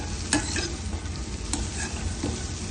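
Green chillies, ginger and curry leaves frying in a pan make a dense, continuous sizzle close by, with a few sharp spoon scrapes as they are stirred; no talking.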